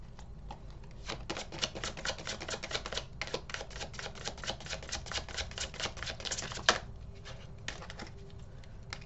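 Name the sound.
tarot cards being shuffled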